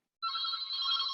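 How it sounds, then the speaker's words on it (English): A mobile phone rings with a bright electronic tone, starting abruptly after a brief silence and sustaining steadily and clearly for about a second, alone with no talk. "I'm sorry about my phone."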